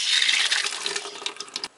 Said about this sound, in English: I'll use a bucket to collect any additional water that drains out.